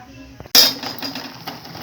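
A metal lid clanks sharply off a tiffin box sitting in a pot of boiling water while steamed egg cooks, followed by a soft hiss and faint clinks nearby.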